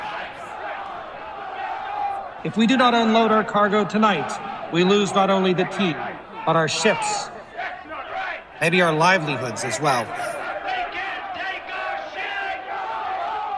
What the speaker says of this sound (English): A murmur spread across the room, rising to a roar as Roach finishes his thought.